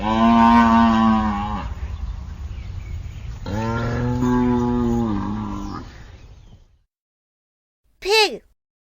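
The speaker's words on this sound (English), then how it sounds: "Cow." A cow moos twice in long, drawn-out calls, loud and close, then goes quiet before a short chime-like tone at the end.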